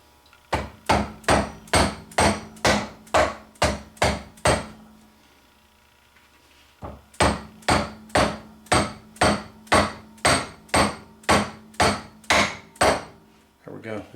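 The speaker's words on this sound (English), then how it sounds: "I'm going to tap this shaft into the bearing. I am using a rubber mallet hammer to do this with" A rubber mallet taps a steel shaft into a bearing on a Kubota belly deck gearbox, two runs of about a dozen evenly spaced, close, solid knocks separated by a short quiet pause.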